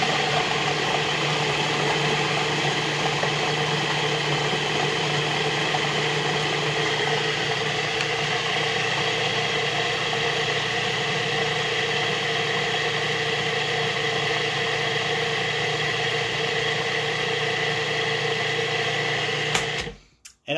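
A grating machine grinds Parmigiano Reggiano Parmesan cheese with a steady, even mechanical whir that runs on for about twenty seconds before cutting off abruptly at the end.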